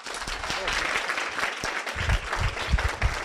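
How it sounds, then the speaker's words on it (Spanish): An audience claps for a professor after an economics lecture, producing a dense, continuous patter of applause with a voice briefly audible over it. "Un aplauso para el profesor."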